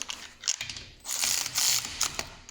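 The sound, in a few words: ratchet wrench tightening a Porsche Cayenne brake bolt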